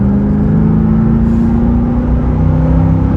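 A 1993 Chevrolet Corvette C4 pulls hard in third gear from about 3,000 rpm, a loud, steady low engine drone that rises gradually in pitch, heard from inside the car.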